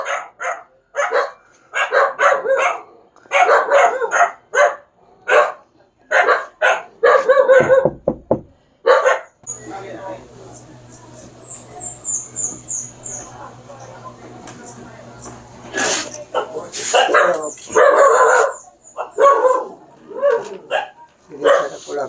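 Dogs bark in repeated loud, close bursts, mixed with yips, across most of the stretch, with a brief lull in the middle while people talk nearby.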